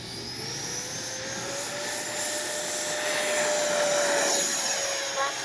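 A Freewing 90mm F4 Phantom II RC jet spools up on a warm day, its rising turbine-like whine swelling into a loud, steady roar with no talking.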